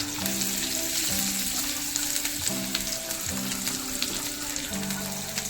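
Chopped green chillies sizzle in hot oil, a dense steady frying hiss with a faint low hum underneath, continuous and close with no talking.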